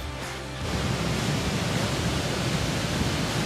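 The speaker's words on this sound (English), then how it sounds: "There's the waterfall over there." Whangarei Falls in New Zealand roars with a steady broadband rush of falling water and spray, loud and constant, swelling slightly after the first half second.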